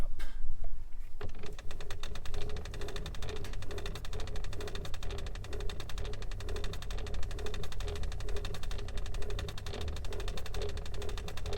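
A Victrola phonograph fitted with a freshly rebuilt number two reproducer runs with a steady mechanical whirr and hum. It holds a continuous, even texture after a brief scrape at the start. No voices are heard.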